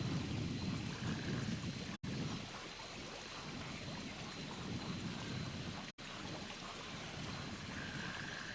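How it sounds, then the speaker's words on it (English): Rain and thunder in the video game Metal Gear Solid V: a steady, dense hiss of rainfall with a low rumbling undertone runs continuously, with no speech. "Caution, rain approaching."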